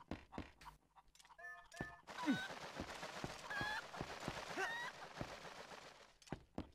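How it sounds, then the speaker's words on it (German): Chickens in the Zelda: Twilight Princess HD video game give several short clucks and squawks in quick succession over game ambience, with a few sharp thuds mixed in. "Hühner! Das ist ein gutes Zeichen."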